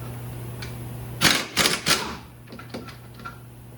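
A power tool spins off the 17 mm upper ball joint nut on a 2005-2012 Ford Fusion during wheel bearing work, giving three short, loud rattling bursts close by, followed by a few fainter clicks.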